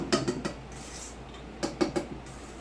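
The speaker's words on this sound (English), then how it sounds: "So we're just going to whisk this to combine it" Brownie batter being whisked in a bowl makes two quick bursts of three or four clinking taps, fairly faint and close, with quiet between them.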